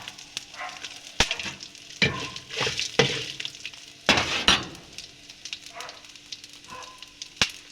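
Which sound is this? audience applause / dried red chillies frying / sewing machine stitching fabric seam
dried red chillies frying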